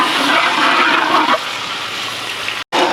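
Water pours in a steady rushing gush into a cooking pot for beef mango curry, then cuts off abruptly near the end.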